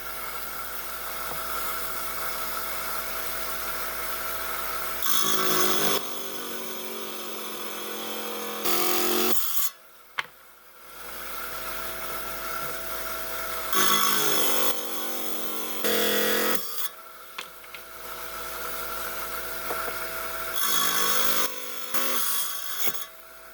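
A small 5-inch lapidary saw trims a piece of dumortierite stone, its blade whining steadily at close range, with the pitch shifting and several brief drops to quiet between cuts.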